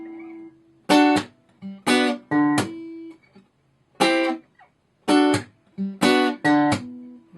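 An acoustic guitar is played slowly in sparse phrases of chords punctuated by percussive thumb slaps and muted string pops, close and clear with silent gaps between phrases and no talk.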